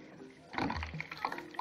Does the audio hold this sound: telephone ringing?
no